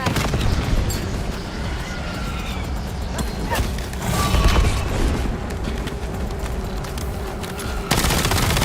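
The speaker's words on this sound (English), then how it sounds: "Lobbing frag." A frag grenade thrown and exploding in Call of Duty Black Ops 7, a heavy boom amid dense, continuous battle noise and gunfire, with a sudden loud surge near the end.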